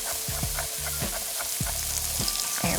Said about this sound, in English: just chopping up the pancetta. And we're gonna fry it up. Put it in my pan with a little bit of oil.